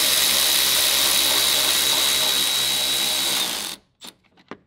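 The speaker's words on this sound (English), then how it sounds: "Here, we're using the Milwaukee on the next one." A Milwaukee power tool whirs steadily at high speed while driving a bolt into an electric fan mount on a 2004 Cadillac Escalade 6.0, then stops abruptly, followed by a few faint clicks and taps.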